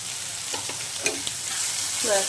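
Potatoes frying in a pan with tomato, ginger, green chili paste, coriander and cumin powder give a steady close sizzle, with a few soft scrapes and stirring clicks along the way.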